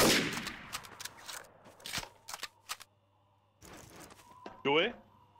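Gunfire in a Trouble in Terrorist Town round strikes the player: a few sharp, scattered shots and impacts, moderately loud, broken up by short gaps, with a voice speaking over part of the action.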